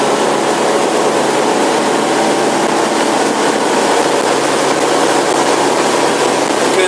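A 2005 Cobalt 282 bowrider's engine roars steadily and loudly while accelerating onto the plane, with broadband rushing noise of hull and water mixed in, no pauses.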